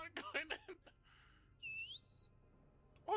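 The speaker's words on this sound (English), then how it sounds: "What the hell's whistling?" A character whistles in the horror game Backrooms Escape: one short, clear rising whistle in the middle of the clip, with brief talk just before and after it.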